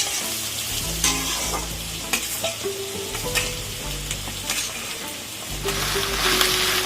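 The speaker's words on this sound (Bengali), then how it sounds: "ক্যাপসিকামগুলো একটু নাড়াচাড়া করতে করতে পেঁয়াজটা দিয়ে দিতে হবে" Capsicum and onion being stir-fried in a pan: a loud, constant sizzle broken by repeated scraping strokes and light clatter as the vegetables are tossed, close up and without any voices.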